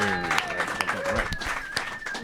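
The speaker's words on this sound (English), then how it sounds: "big round of applause for Adam Greene." A live audience at a rap battle league event claps steadily in a packed room, the applause dense and continuous with a few sharper hand claps and crowd noise, voices faintly mixed in.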